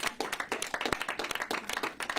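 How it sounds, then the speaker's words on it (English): A small crowd at an anti-gun-violence group's gathering claps in quick, uneven bursts, with individual sharp hand claps standing out close by. The clapping runs for a couple of seconds without speech. "can my clap be a little louder?"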